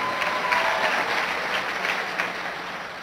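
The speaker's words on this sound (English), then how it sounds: "Don't applaud. That takes too much time." Audience applause at a political conference, a steady, dense clapping that fills the space at a consistent level with no voices over it.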